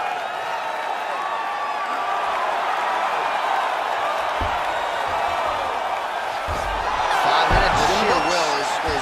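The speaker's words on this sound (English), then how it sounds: "So the crowd voicing its appreciation after that round." Crowd cheering from the EA Sports UFC 4 mixed martial arts fight game, a steady arena roar after a round that swells louder near the end, with a few sharp thumps mixed in.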